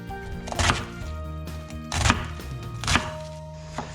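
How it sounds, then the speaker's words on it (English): Cabbage being chopped into small pieces with a knife on a board for a Taiwanese-style holiday dinner, four heavy thuds at uneven intervals over a faint hum, with no talking. "Chop the rest of the cabbage into small pieces and wash properly."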